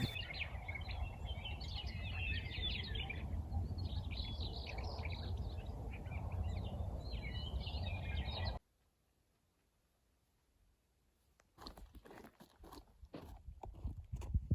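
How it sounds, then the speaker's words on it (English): Birds chirp and sing in busy bursts over a low outdoor rumble; the sound then cuts to near silence before scattered crunching noises. "the birds are singing again"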